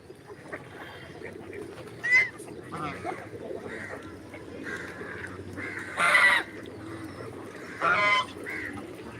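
Ducks quack in a few loud, short bursts spread over a quieter background while a person talks softly.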